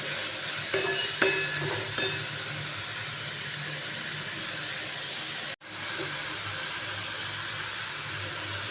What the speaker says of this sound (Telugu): ఆనియన్స్ పచ్చిమిర్చి వేసి బాగా మగ్గించుకోండి కొంచెం మగ్గిన తర్వాత కరేపాకు కూడా వేసి తిప్పి